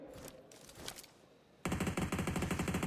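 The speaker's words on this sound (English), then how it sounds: "Mafioso barely can peek out before the bullets whiz past his forehead." Rapid automatic gunfire in PUBG Mobile during an esports tournament match, starting after a short stretch of scattered shots and then running as a loud, continuous burst to the end.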